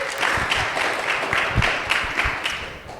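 An audience at a live discussion event applauds, a dense continuous patter of many hands clapping for the full few seconds, fairly loud and close, with no voices over it.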